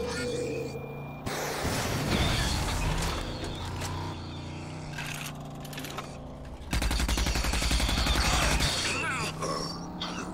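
Gunfire in the Rage shooter game, loud bursts of rapid shots in two sustained volleys amid game ambience, with a voice talking over parts of it.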